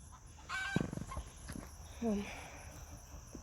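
A fleur-de-lis rooster makes short clucking calls amid a hum of insects outdoors, with a person talking nearby and a brief sharper call in the middle.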